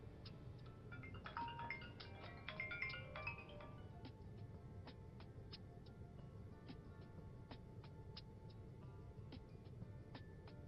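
An unanswered phone rings with a faint electronic ringtone, a quiet run of repeating melodic tones and light ticks over a steady low background hum, with no one speaking.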